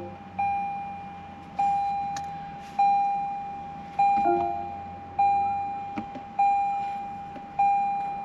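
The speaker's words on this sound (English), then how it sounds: "If we ignore the door gong" Door warning gong in a Lexus LC500 sports car repeats seven identical soft chimes about every 1.2 seconds, each fading away, with a quiet cabin hum underneath.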